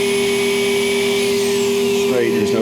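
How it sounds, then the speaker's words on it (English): Rotary buffer spinning on a Ford GTD's paint, a loud steady motor whine with strong tonal hum holding throughout, pitch shifting slightly near the end as the pad works. "This is actually a rotary buffer. It just spins"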